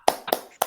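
A group of schoolchildren claps out the short PPK clap rhythm in a classroom, three sharp, crisp claps in quick succession, close and distinct.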